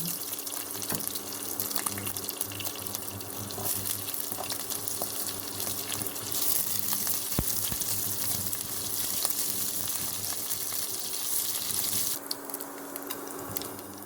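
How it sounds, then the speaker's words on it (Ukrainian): Onion frying in a pan for soup with dumplings, a continuous close sizzle with a few scrapes and clicks, steady and fairly loud, easing slightly near the end. "І ми вкидаємо туди цибульку"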